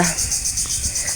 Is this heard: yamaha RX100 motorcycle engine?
no